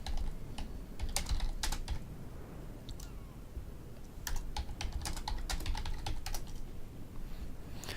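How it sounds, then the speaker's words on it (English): Computer keyboard keys are struck in irregular bursts of sharp clicks during a World of Warships game session, close and distinct over a low background hum, with no voices. "you will hear me smash on the keyboard if I tend to rage out"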